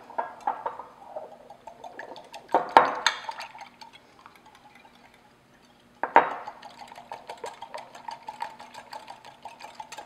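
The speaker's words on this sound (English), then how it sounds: "I'm going to whisk in 1 large egg and 1 teaspoon of pure vanilla extract" A whisk beats egg and vanilla extract in a bowl, quick clattering strokes in two bursts separated by a short pause, close and fairly quiet.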